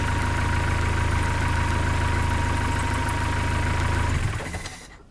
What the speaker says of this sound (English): I'll say all in all that's a good idle.